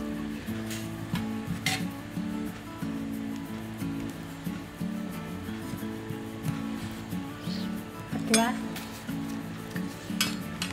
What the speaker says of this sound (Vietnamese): Mình sẽ dùng một cái muỗng nè, mình quét cái trên cái mặt bánh á.